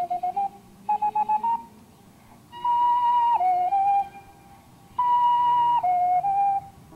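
A tune whistled in a classical style at a whistling contest, clear, steady melodic phrases in three bursts with short pauses between them, close and fairly loud, with no other sound.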